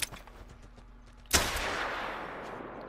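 A single sharp gunshot from a .243 pistol cracks out loud and close, its blast ringing out into a lingering outdoor decay after a quiet stretch.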